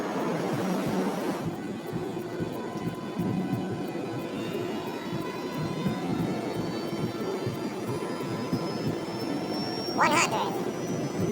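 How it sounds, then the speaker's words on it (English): An MD-82 jet accelerating down the runway makes a broad, steady engine roar and rumble that holds throughout, with a voice talking over it. "the MD-82 aircraft starts speeding down the runway"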